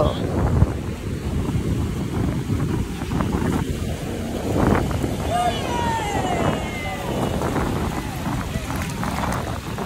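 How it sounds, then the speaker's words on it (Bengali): Strong wind buffets the microphone on Patuatek beach, a gusty rumble with waves washing in the background while people talk nearby. "এত বাতাস ছিল"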